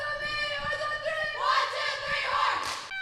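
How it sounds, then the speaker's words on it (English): A high school softball team shouts a group cheer together on the field, a short chorus of voices rising to a loud unified yell near the end before cutting off abruptly. "Now take us out with a cheer."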